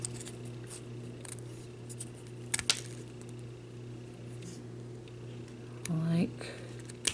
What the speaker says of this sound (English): I'm gonna kind of curve my scissors to go underneath the rhinestones